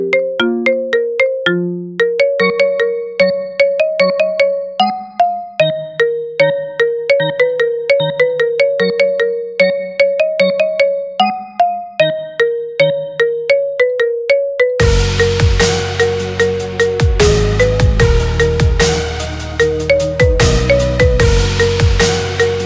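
A marimba remix ringtone, loud bright plucked marimba melody that repeats alone, then a fuller beat with bass and percussion joins for the second half.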